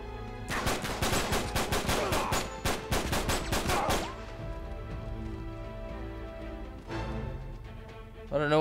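Rapid automatic gunfire in Uncharted 3: Drake's Deception, with a loud burst of closely spaced shots for about three seconds, then quieter background tones and a single later shot.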